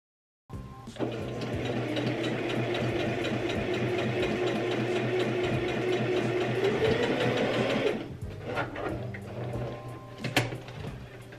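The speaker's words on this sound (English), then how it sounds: "So now I'm gonna sew together the backs and put my darts in at a 5/8 of an inch seam" A sewing machine stitching the back seams and darts of patchwork denim trousers at a 5/8 inch seam runs steadily and loud for about seven seconds, then stops, followed by a few handling clicks and knocks.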